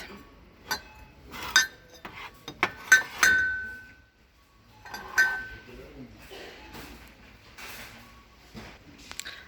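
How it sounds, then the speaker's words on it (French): Ceramic dishes are handled and set down, giving a series of sharp clinks and knocks, some ringing briefly, scattered irregularly over several seconds, close by with a faint voice in the background. "quand je manipulais la vaisselle et puis que je la reposais"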